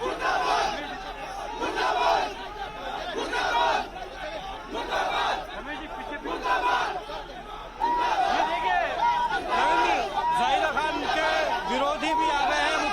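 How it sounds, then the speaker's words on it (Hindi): A crowd at a Rajasthan election event chants protest slogans against Chief Minister Ashok Gehlot, rhythmic massed voices repeating in waves, loud and near, with shouting and babble between chants. "विरोधी भी आ गए हैं मुख्यमंत्री अशोक गहलोत के सामने, मुर्दाबाद के नारे लग रहे हैं"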